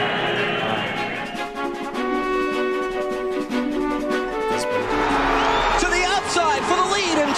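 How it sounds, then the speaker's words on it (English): A large crowd at Daytona roars and whoops in a sustained wave of cheering as Dale Earnhardt Jr. takes the lead, with a commentator's voice and engine noise mixed in throughout. "Listen to the crowd."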